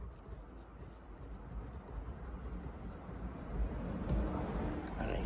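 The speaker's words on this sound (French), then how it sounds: "sur un papier, vous allez mettre votre nom et prénom" A pen scratches across paper as a name is written, soft irregular scraping strokes close to the microphone, with faint rustling and no voices.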